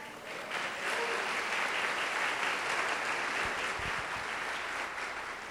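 A church congregation applauding in praise, a broad steady wash of clapping that fills the space from start to finish.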